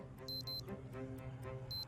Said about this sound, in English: Is that my alarm clock?